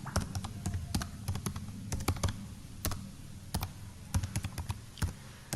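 An address being typed on a computer keyboard, with steady close key clicks in brisk uneven bursts over a faint background hum.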